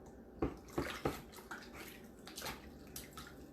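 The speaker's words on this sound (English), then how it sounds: "I got myself some water with soap right here. Clean my hands off real quick." Hands splash and swish in a bowl of soapy water with several quick, close, quiet sloshes, then softer rinsing movements.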